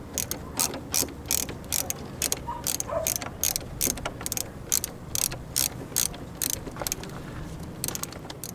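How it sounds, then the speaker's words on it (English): Ratchet backing out Phillips head screws from an RV fitting, a rapid run of sharp metallic clicks in quick bursts with brief pauses, close and fairly loud with no talk. "I'm going to go ahead and remove the old one. It's actually just 3 screws, 3 Phillip head screws."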